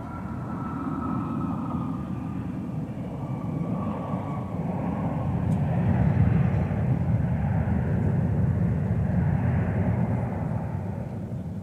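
An Embraer jet at Minneapolis–St. Paul airport, a steady broadband engine roar that swells gradually toward the middle and stays loud throughout, with no voices over it.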